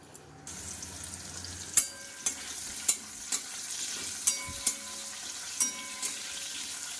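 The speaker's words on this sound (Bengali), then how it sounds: "এই আলুটা ভেজে নিলাম একটু হালকা করে" Potato pieces frying lightly in oil in a pan, a soft continuous sizzle punctuated by a regular series of sharp spatula taps against the pan, close and without talk.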